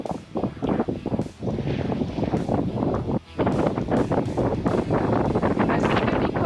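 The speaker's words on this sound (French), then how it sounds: "Le vent monte, l'orage nous gagne." Strong, gusty wind from an approaching thunderstorm buffets the microphone aboard a sailboat in loud roaring bursts, rising and falling without pause.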